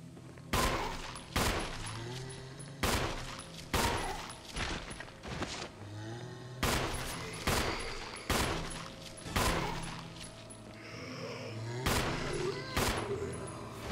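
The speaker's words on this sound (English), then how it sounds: "That was 9 shots, I think. That's the wrong gun." Gunfire in the video game Resident Evil HD: loud single shots spaced a second or so apart, each with a sharp crack and short reverberant tail, along with some game ambience.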